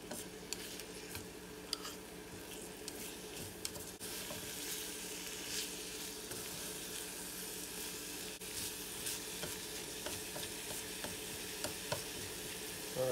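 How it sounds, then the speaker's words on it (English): Cabbage sizzles quietly in hot oil with garlic and onion as it wilts while making Korean pork bone soup (gamjatang), a continuous soft frying hiss with faint ticks and crackles throughout, and no voices. "Hopefully you can hear it starts to sizzle a little bit."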